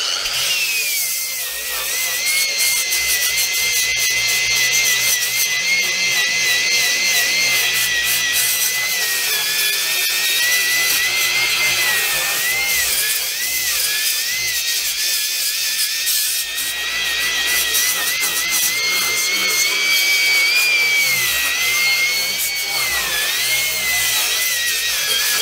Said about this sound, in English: So just cleaning up the face on this thing with the grinder.